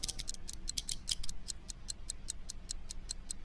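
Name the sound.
clock ticking in Knock-knock video game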